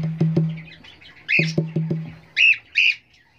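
Cockatiels in a nest box give close, harsh squawks and chirps, mixed with quick rhythmic tapping pulses, loud and with no one talking.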